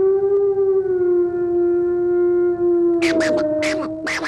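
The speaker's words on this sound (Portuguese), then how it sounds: "Estás a ouvir? Disse o avô. É o lobo." A long, steady wolf howl holds one drawn-out tone, then a few sharp, higher yelps break in near the end.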